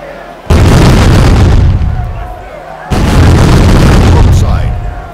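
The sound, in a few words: ship cannons firing broadside in East India Company video game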